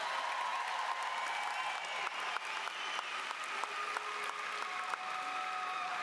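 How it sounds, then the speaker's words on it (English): A high school graduation crowd gives sustained applause, distant and fairly soft, with dense clapping, a few sharper claps and faint whistles or calls mixed in. "Can we give them a round of applause, please?"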